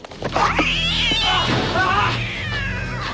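A cat gives one long, loud, wavering meow that rises and falls like a caterwaul, heard close and alone.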